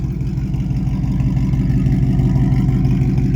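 A catless Ford Mustang with Kooks headers and a Corsa Extreme active exhaust with quad tips is revved remotely, a loud, deep, steady rumble that swells slightly as the revs build.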